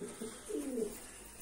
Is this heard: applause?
no